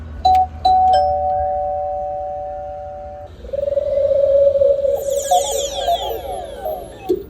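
A doorbell chimes with a few bright tones that ring out and fade, then a second ringing chime sounds, clear and close with no voices.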